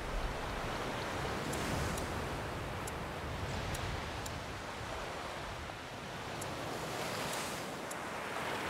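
Water waves in A Plague Tale: Requiem roll and wash steadily in a broad, even surf hiss with faint wind, continuous and fairly close throughout.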